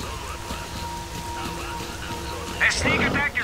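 Steady rain in the video game Stalker Clear Sky, hissing evenly throughout, with a voice speaking over the end.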